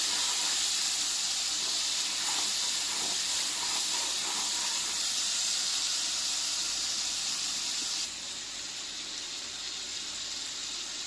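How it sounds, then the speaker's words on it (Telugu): Tomato masala frying in ghee in a pan while cooking paneer ghee masala, making a constant close hiss and sizzle that drops slightly in level near the end, with no talking. "1/2 కప్పు వేసి నెయ్యి నూనె పైకి వచ్చేదాకా వేయించుకోండి"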